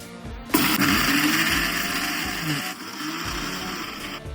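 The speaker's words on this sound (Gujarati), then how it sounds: "આ બધું આપણે બંધ કરીને ગ્રાઇન્ડ કરી લઈશું મિક્સરમાં" A kitchen mixer grinder whirs loudly and continuously while coarsely grinding fennel and garlic, starting abruptly and running steadily with a faint rattling pulse, and no voices.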